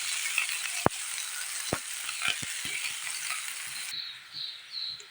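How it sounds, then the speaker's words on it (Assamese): Chopped onions fry in oil for Assamese aloo chop, a steady close sizzling hiss punctuated by several sharp scraping clicks of stirring, quieting somewhat toward the end, with no talking. "পিঁয়াজখিনি মই ভালদৰে ভাজি ল'লোঁ।"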